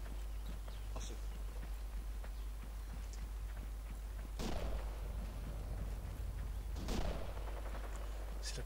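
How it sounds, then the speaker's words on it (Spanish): Distant gunshots in the video game Arma 3 crack at intervals over a constant low rumble and faint scattered clatter, with two louder bursts standing out. "Esos tiros no saben si son aliados."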